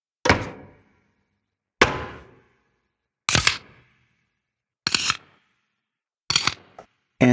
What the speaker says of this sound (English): latches